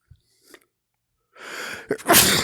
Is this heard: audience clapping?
no